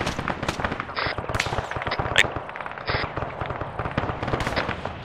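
Sniper fire and other gunshots from a squad-based military shooter, ArmA 3, crackling continuously as dense, layered reports with a few sharper cracks standing out above the steady din.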